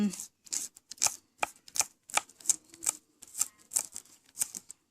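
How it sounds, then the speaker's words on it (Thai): A knife chops spring onions on a board in a home kitchen during egg-custard prep, giving a quick series of sharp, close taps in an uneven rhythm. "หั่นหอมก็นะจ้าเนาะต้นหอม"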